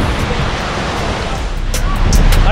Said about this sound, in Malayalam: നല്ല വെള്ളം ഇങ്ങനെ അടിക്കുന്നുണ്ട്, മിസ്റ്റടിക്കുന്നുണ്ട് വെള്ളത്തിൻ്റെ